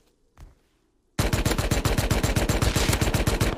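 Gunfire in the video game Rust. One faint distant shot, a brief pause, then a loud, close burst of rapid automatic fire with evenly spaced shots running for several seconds.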